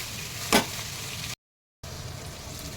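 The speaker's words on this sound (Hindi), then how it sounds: "मैंने पूरी प्याज डाल दिया इसमें। अब ये प्याज अच्छे से हम सॉफ्ट कर लेंगे।" Onions frying in a pan for a chicken curry, a steady soft sizzle with one brief louder burst early on, broken by a short dropout of silence.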